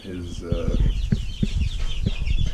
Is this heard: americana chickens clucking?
yes